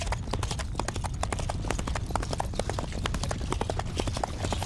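A horse's hooves clip-clop at a steady walking pace, close by, over a low rumbling background, in an anime episode.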